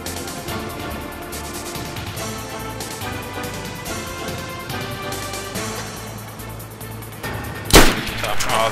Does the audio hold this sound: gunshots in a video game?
yes